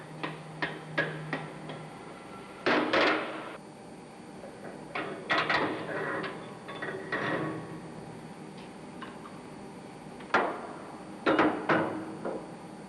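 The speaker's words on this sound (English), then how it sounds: "If the valve spindle seizes when it is being taken out, tap it lightly with a tin hammer." Light taps of a tin hammer on a seized air starting valve spindle during an overhaul, scattered sharp metallic knocks in small clusters with pauses between, close and moderately loud in a quiet workshop.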